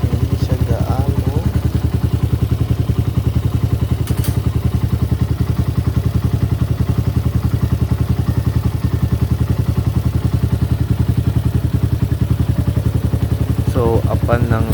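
A Raider 150 motorcycle fitted with a racing CDI and a 30mm carburetor idles loud and close, its rapid single-cylinder putter steady throughout. Brief voices are heard near the start and end.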